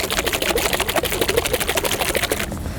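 Vigorous shaking of an oil and water emulsion in a container, a fast, steady run of rattling, sloshing strokes, loud and close, continuing for nearly three seconds before stopping.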